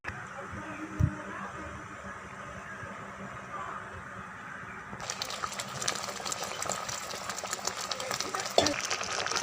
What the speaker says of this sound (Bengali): এবার আমি ভালো করে নাড়াচাড়া করছি